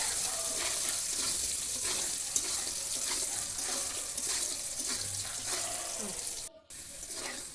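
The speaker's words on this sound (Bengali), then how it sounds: "আলুগুলোর মধ্যে সামান্য পরিমাণ লবণ, একটু হলুদের গুঁড়া দিয়ে আলুগুলো ভেজে নেব।" Potatoes seasoned with salt and turmeric fry in hot oil, giving a steady, close, dense sizzling hiss that runs on with no talking.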